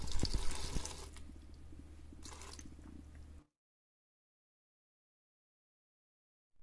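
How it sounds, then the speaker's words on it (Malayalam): Cooled boiled water is poured into a mixer jar holding banana, dates and cashews for a milkshake, a close steady splashing pour of about three seconds that ends abruptly in silence. "ഇതിലേക്ക് ഒരല്പം വെള്ളം ഒഴിക്കണ്ട്"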